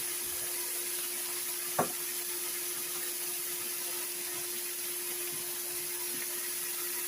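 Cubed steak searing brown in a hot pan gives off a soft, steady sizzle and hiss, quiet and unbroken apart from one brief clink partway through.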